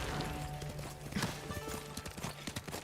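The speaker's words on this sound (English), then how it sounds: "the horse charge is great" A horse gallops in a cavalry charge in Ghost of Tsushima Director's Cut on Iki Island, with rapid rhythmic hoofbeats drumming steadily and close under a background game score.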